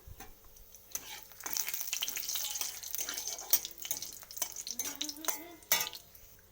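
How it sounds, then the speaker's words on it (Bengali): Dried red chilli and nigella seeds fry in hot oil as a tempering for a prawn mustard-poppy seed curry, giving a soft, steady crackling hiss with scattered clinks of stirring that runs through most of the moment. "আমি তেল দিয়ে দিয়েছি আর একটা শুকনো লঙ্কার ফোড়ন দিলাম আর কালো জিরার ফোড়ন দিলাম"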